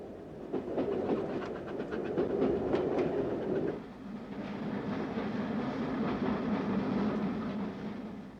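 Steam train on the preserved Great Central Railway line at Loughborough, a steady rumbling run with rhythmic clatter of wagons over rail joints, close and continuous, easing in tone partway through, no voices.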